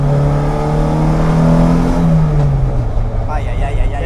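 Car engine revving up and settling, loud and close with a falling pitch, while people talk over it.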